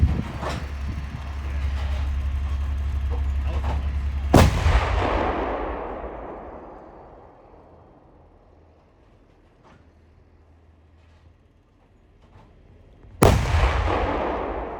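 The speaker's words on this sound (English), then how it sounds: "the British military have been learning to use this big howitzer behind me, the brand new Archer howitzer" Two thunderous blasts from an Archer howitzer during a NATO artillery exercise, the first cutting through a steady engine rumble and rolling away in a long echo, the second booming near the end.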